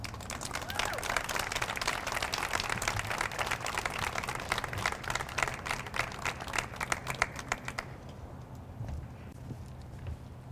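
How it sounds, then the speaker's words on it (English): A press-conference audience applauds the mayor of Salt Lake City at a Google Fiber launch, dense clapping for about eight seconds that then tapers to scattered claps. "Let's give one more round of applause to Mayor Jackie Biskupski."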